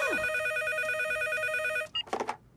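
A telephone in a cartoon rings again, a loud, steady electronic warble that stops abruptly, followed by a couple of short clattering knocks close by.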